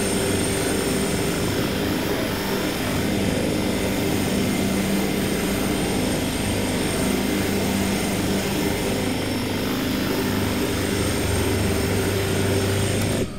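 An AW-139 helicopter engine in the X-Plane 11 flight simulator drones steadily with a dense rotor thrum and hum, loud and unbroken throughout, with no voices.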